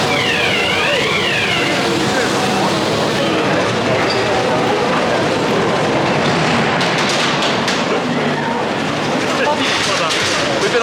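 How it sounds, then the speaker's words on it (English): The Ghost Train ride at Blackpool Pleasure Beach rumbles along as a dense, loud, steady clatter of cars on track, with a brief siren-like warble near the start and voices in the mix. "so time to do the Ghost Train."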